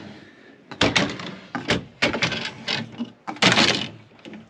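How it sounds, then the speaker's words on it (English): Kitchen drawers in a 1997 Winnebago Itasca Suncruiser motorhome are pushed shut and latch, producing a run of sharp, close wooden thunks and clacks, several in quick succession with brief rattles between. "These are all latching drawers,"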